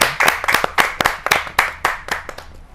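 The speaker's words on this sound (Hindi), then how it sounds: "जोरदार तालियों के साथ उनका स्वागत है" Audience clapping at a Hindi poetry gathering (kavi sammelan), sharp individual claps from a modest crowd in an irregular rhythm, close and fairly loud, thinning toward the end.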